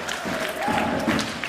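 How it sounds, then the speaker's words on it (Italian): Applause and crowd noise from the stands at a Serie A1 roller hockey match between Valdagno and Follonica, a steady wash of clapping with some chatter that holds at an even level throughout. "Applausi per lui dalla tribuna del Paralido."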